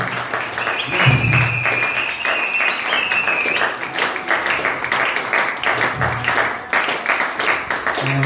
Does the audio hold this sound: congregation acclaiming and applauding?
yes